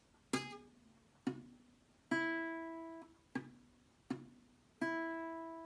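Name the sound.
guitar notes muffled from weak fretting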